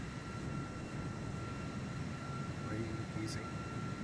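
A Boeing 737 MAX in Microsoft Flight Simulator 2024 rolls down the runway for takeoff, its jet engines a steady, dense roar with a faint whine throughout, while a voice briefly speaks over it.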